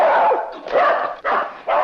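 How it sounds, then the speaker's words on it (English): A dog barks in a quick run of sharp, loud barks close by, three or four bursts separated by brief gaps, with no talking over them. "Well, I haven't heard Corky bark in ages"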